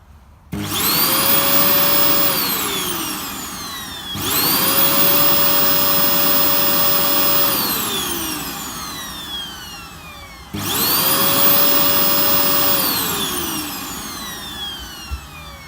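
A Hoover Dustmanager vacuum cleaner runs outdoors in a garden, its motor whining up three times in succession, each start rising to a loud steady roar then winding down.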